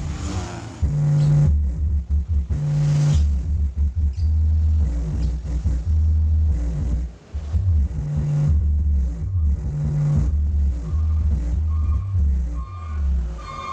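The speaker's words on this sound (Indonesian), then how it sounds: "Ini suara subnya ya." Heavy subwoofer bass thumps loudly through an amplifier fitted with a BSX tone control kit, pulsing in a driving rhythm with a music track over it and brief dips between phrases.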